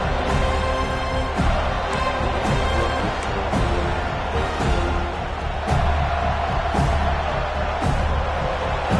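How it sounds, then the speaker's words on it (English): Stadium crowd at a college football game between FSU and Texas roars steadily through a third-down defensive stand, a dense, loud wash of cheering with sharp bursts rising throughout. "Decibels rising as the crowd gets behind this defense on third down."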